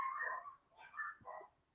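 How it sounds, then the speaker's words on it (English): Pet dogs yipping and whining in the background indoors, a few short faint high-pitched barks in quick succession, heard alone at low volume. "Can you hear my dogs barking in the background?"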